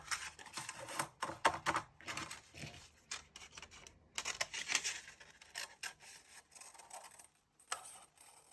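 Big scissors snipping a transparency sheet, a close run of irregular crisp cuts and rustling plastic with short pauses, fairly faint and with no talk.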